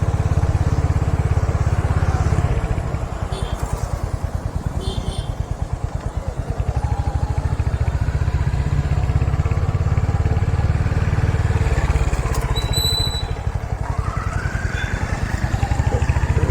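A Royal Enfield Hunter 350 motorcycle ridden through low gears, shifting from first to second, with a steady close engine rumble and exhaust throb running throughout, a slight dip and rise in revs mid-ride.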